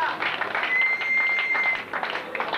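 Applause for a contestant at a 1996 modelling contest selection: a short burst of steady crowd clapping, fairly close, with a faint tone running through it.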